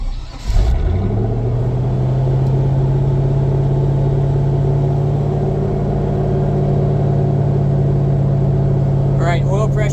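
A Land Rover engine cranks briefly, catches and settles into a steady, loud, close idle with a low droning hum that holds evenly for the rest of the clip, with no voices.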